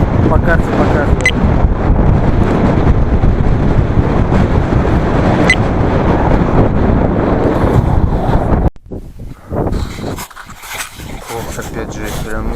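Heavy wind buffets the microphone in a loud, continuous roar on open terrain in Mongolia during a bicycle trip, dropping off briefly near the end before gusting again, with a voice speaking underneath.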